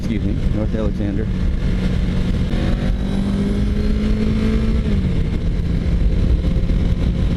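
Car driving southbound along a street in Baytown, a steady close engine and road rumble that swells briefly as it accelerates, heard from inside the vehicle under continuous talk.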